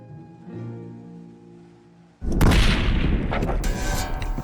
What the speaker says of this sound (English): holding a rifle in this wind without a brace, it's tough